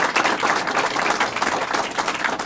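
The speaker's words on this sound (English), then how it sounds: "That deserves an applause." Short burst of audience applause at a county jobs program announcement, many hands clapping in a lively, close, slightly uneven patter that holds steady for a couple of seconds.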